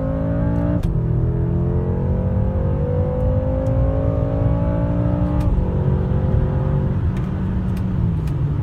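BMW M6 F13 accelerating hard through several gears, the engine note climbing steadily and dropping at each upshift, heard loudly from inside the car.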